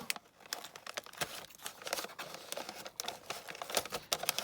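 A mail envelope being carefully torn and opened by hand, a continuous run of close crinkling and papery ripping with small crackles, slow and cautious, with no voice.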